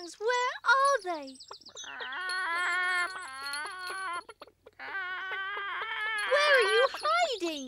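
A high, excited voice imitates hens, with squawking clucks and bursts of cackling that run almost without pause, loud and close.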